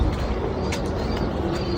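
Caged pigeons coo softly in a low, repeating murmur over a steady background hum, fairly close.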